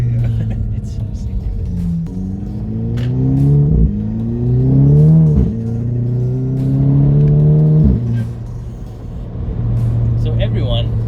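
A VW Golf 5 GTI running a K04 turbo engine with blow-off valve revs up in several rising sweeps, each ending in a drop back to a steady low idle, loud and close, with voices talking underneath.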